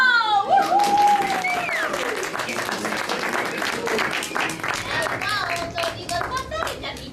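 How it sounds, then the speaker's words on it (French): Audience applause at a stage performance, a dense burst of clapping from a crowd that carries on steadily, with a voice and some high calls over it. "Faites-moi entendre un tonnerre d'applaudissements."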